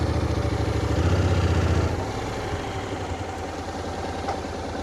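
Honda motorcycle with a DCT gearbox running while gears change, a close, loud engine drone that steps down in pitch and level partway through, then settles into a lower, even idle.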